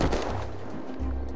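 Gunfire from weapons in the game Unturned during a PvP arena match comes as a dense, loud burst of rapid booming shots, close and continuous, with no voices.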